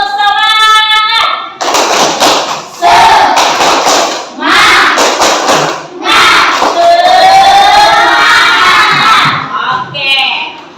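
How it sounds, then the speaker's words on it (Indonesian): Schoolchildren in a classroom perform a rhythmic spirit clap, loud bursts of patterned clapping mixed with shouted chant, in several phrases with short pauses between them. "Bagaimana kita tepuk semangat dulu? Ayo, tepuk semangat."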